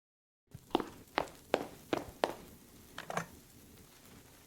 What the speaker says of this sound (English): Now let's modify the footstep sound interval value to 80